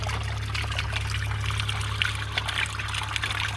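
Dirty carpet-cleaning water being poured out, a steady trickling splash running continuously over a low constant hum from nearby equipment, moderately quiet throughout.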